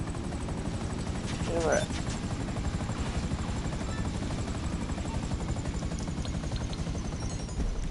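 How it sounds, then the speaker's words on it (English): Dodo plane in the GTA 5 video game flying with a steady droning propeller engine hum throughout, loud and continuous, with a brief voice exclamation early on. "The Dodo is not a fast plane"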